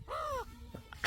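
A pet parrot imitates a crow's caw with a single drawn-out, harsh call, close and fairly loud, followed by a couple of short softer sounds and a brief burst of noise at the end.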